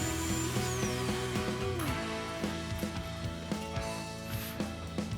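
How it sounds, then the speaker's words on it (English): A Dremel rotary tool cuts the bristle section off a broom: a steady high motor whine that dips in pitch partway through, with rhythmic clicking and scraping as it bites, close and alone. "Then with my Dremel tool, I cut the bristles part off."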